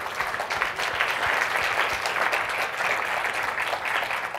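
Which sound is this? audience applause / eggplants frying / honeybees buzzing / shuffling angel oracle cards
audience applause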